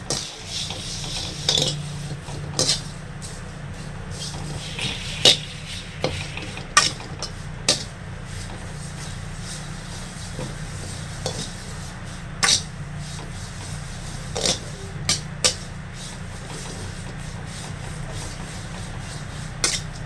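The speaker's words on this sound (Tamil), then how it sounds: "சிம்மில் வச்சுக்கோங்க சிம்மில் வச்சு அப்படியே லைட்டாக அப்படி வறுக்கணும்" Coriander seeds dry roasting on low heat in a pan, stirred with a spoon: a soft continuous rustle punctuated by light scrapes and clinks against the metal, close and steady.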